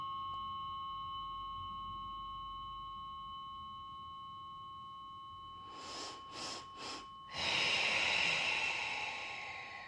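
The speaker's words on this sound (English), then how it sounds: "Those little nose sniffs, if you've never heard of that, that really helps to balance your nervous system at any moment." Short nose sniffs come during a breathing exercise: three quick, soft sniffs close together, then a longer breath in, heard over a steady sustained tuning tone with no talk.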